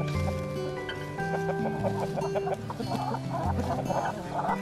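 Hens clucking and murmuring close by, with steady low chatter and a few sharper calls over a busy background.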